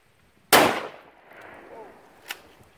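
A single loud, close gunshot as a slug strikes a bulletproof drywall panel, a sharp crack that rings out and decays over half a second, followed by a faint murmur and a smaller sharp knock.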